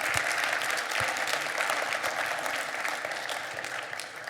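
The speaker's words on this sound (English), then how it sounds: "I can give him another round of applause." A research-paper session audience at the SSAC16 conference gives a full round of applause, dense and sustained clapping from many people that fills the room and fades slightly toward the end.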